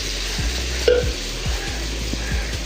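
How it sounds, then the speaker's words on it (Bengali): Spices hitting hot oil in a home kitchen pan while cooking fish give a steady frying sizzle, with repeated low stirring scrapes and one sharper clink, fairly close and with no talk. "এই গেল মশলা তেলে।"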